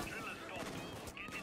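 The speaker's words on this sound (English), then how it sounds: "Fire shotgun. Indiscriminate." Shotgun blasts from the heist shooter Payday 2 crack through a dense, busy game mix, with chaotic combat noise and voices layered underneath.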